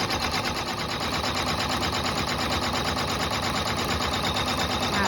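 A sewing machine stitches a V-stitch on fast-dry towel fabric for a bath mitt, running close and steady with a rapid even mechanical chatter and no pauses. A voice talks softly underneath.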